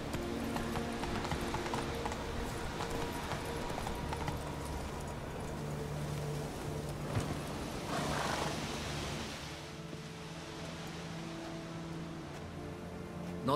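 Horse hooves clip-clopping in a steady galloping rhythm from The Witcher 3, loud and continuous over a dense background of game music and ambience, with no talk.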